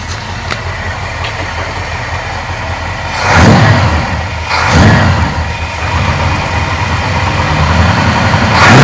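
Ford 390 FE V8 idling during a cold-start warm-up, a loud, steady rumbling idle close by, with two brief rises in revs partway through before settling back.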